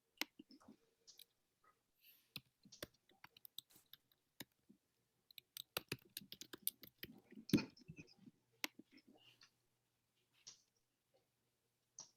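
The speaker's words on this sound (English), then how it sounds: "Anyone else still typing?" Keystrokes on a computer keyboard in a quiet room during a community meeting on development in Watertown: sparse, irregular, faint clicks and taps scattered over several seconds, with no talking.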